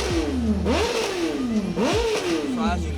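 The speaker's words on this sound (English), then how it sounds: "Motorcycle?" A motorcycle engine revs up and down twice in quick succession at a car meet, rising and falling in pitch, fairly close and loud.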